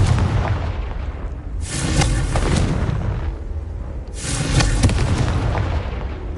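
Confringo spell blasts in the video game Hogwarts Legacy: two heavy booming explosions about two seconds apart, each a loud burst with a rumbling tail, over constant game background noise, with no talk.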